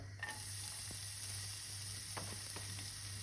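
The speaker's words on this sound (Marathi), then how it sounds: "हांवें आतां पॅन दवरला, तितून तेल घायलां आनी हांव आतां लसूण घालतां" Garlic fries in oil in a pan, giving a continuous soft sizzle with a low steady hum behind it and a few faint ticks and pops, quiet and without talk.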